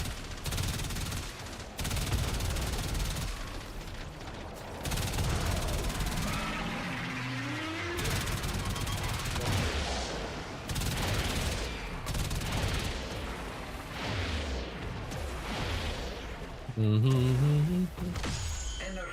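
Gunfire aimed at an Eidolon's arm in the video game Warframe, sustained weapon shots and energy bursts running through the whole stretch amid dense in-game effects and loud, continuous action, with a game voice present.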